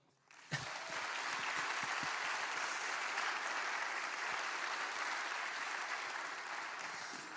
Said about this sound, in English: You can clap them if you like.